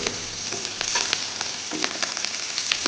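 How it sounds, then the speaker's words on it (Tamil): Urad dal and curry leaves fry in hot oil for chilli idli, a continuous crackling sizzle with frequent sharp pops, fairly close and alone without talk. "உளுந்தை போட்டு பொன்னிறமாக வதக்கணும்"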